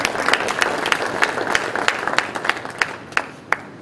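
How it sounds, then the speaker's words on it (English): Audience applause during a golden anniversary lecture, a crowd clapping that thins out into a few scattered, distinct claps by the end. "Please give them a big round of applause."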